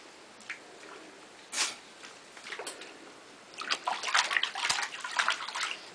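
Baby boy splashing in bath water, soft sloshes and splatters that grow busier and louder toward the end, close by, with no talking.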